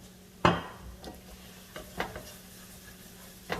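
Shrimp searing in olive oil in a pan, giving a soft, steady sizzle beneath a few sharp clinks and scrapes of a utensil against the pan, one louder knock near the start.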